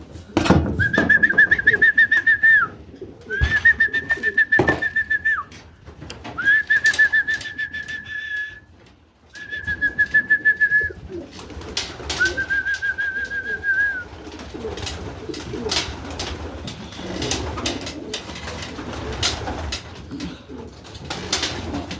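Homing pigeons on a loft orientation flight give repeated close, clear calls in a series of separate bursts, then fall to fainter, busier background sounds.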